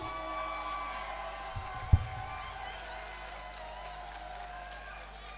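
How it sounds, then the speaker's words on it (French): Faint, distant applause and cheering from a crowd at a political party convention, a low steady rumble of clapping with one sharp thump partway through. "On applaudit encore très fort pour Chanel."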